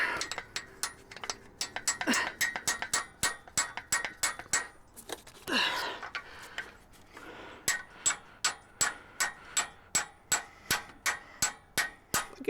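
Steady, rhythmic hammering on an RV with a 454 engine, sharp metallic strikes repeated at an even pace, close and fairly quiet, with a brief scraping pause midway.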